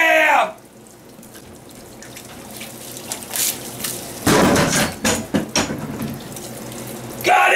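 Water gushes steadily from an overflowing sink, splashing and rushing with some clattering knocks. It swells in louder surges toward the middle and end.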